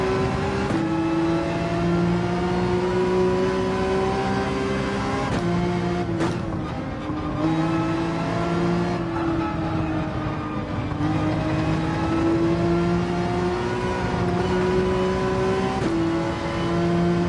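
A Porsche 911 RSR race car engine in the video game Gran Turismo 7 drones loudly and steadily, its pitch climbing and dropping through gear changes, with no voices.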